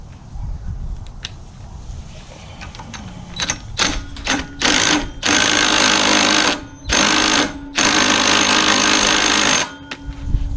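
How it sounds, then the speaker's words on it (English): Impact wrench tightening a go-kart torque converter on a dual Predator 212 setup, firing in several short bursts followed by two longer sustained rattling runs, loud and close with no talking. "I'm actually going to tighten this side with an impact because I can get to it."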